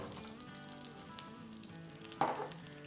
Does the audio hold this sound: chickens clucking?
no